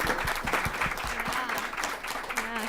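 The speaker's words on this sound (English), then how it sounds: "I really wanted to give a round of applause to the panelists" An audience at a community event on affordable housing applauds the panelists, a steady wash of clapping from a crowd in a hall, moderately loud throughout with brief talk mixed in.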